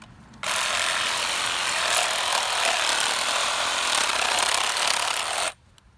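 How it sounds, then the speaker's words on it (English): A Sawzall reciprocating saw cuts through a deer's shoulder elbow joint, loud and close, in one sustained buzzing run of about five seconds that starts and stops abruptly. "pick up your Sawzall again, and right here at this elbow joint,"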